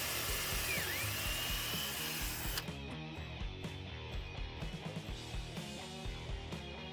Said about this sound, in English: And I'm just running my drill through the same holes again, just to leave marks on the other board.